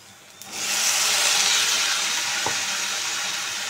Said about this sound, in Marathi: बटाटे आपण चांगले परतून घेऊया